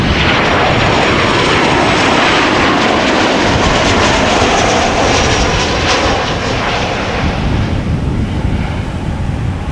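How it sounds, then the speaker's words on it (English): A Transavia airliner arriving from Lisbon, its jet engines roaring loudly and close by. The roar sweeps past and then eases slightly toward the end, with wind noise on the microphone. "Transavia arriving from Lisbon"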